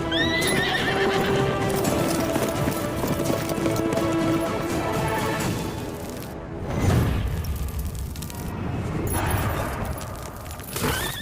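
Film sound of a horse whinnying and its hooves clip-clopping, loud and close, with a dramatic boom and an orchestral swell over it, and clattering hoof beats returning toward the end.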